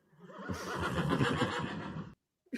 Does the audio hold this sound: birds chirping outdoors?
no